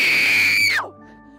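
A woman lets out one loud, sustained scream of joy after taking her first bull elk, holding a high pitch before it drops off sharply and fades into quiet.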